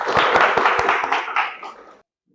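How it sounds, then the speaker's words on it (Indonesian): A class of students gives a short burst of clapping for a classmate in an Indonesian classroom lesson, fairly close and lively, fading out after about two seconds. "Tepuk tangan untuk Anjani"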